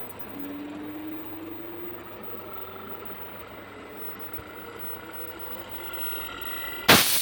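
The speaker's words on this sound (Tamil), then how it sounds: "கம்பர்சர் ஸ்டார்ட் ஆகிட்டு" Compressor of a Lloyd inverter air conditioner starting up: a low steady hum with a whine that climbs slowly in pitch as it spins up, under a constant background drone, ending with a brief loud burst of noise.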